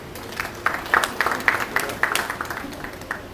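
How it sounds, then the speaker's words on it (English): Scattered, irregular clapping from an audience at the launch ceremony of a national drama festival, moderately loud and somewhat thin rather than a full roar, lasting a few seconds. "Please give him a big round of applause."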